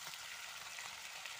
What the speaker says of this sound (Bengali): তো এই যে দেখো এখনও কষানো চলছে মাংসটা।